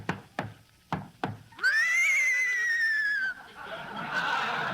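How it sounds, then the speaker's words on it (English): A horse ridden into a studio gives one long, loud, close whinny lasting nearly two seconds, preceded by a few sharp hoof-like knocks and followed by a noisy rustling stretch. "Hey, Abbott, there's somebody riding into the studio on a horse."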